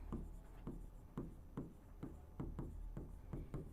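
Chalk or a marker taps and strokes across a board during a chemistry lesson in a steady rhythm of short, close strokes, with a low hum beneath and no talking over them.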